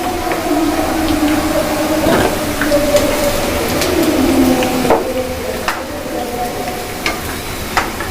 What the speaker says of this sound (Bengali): আমার আলু ভাজি হয়ে গেছে, আমি এখন এটা তুলে নেব।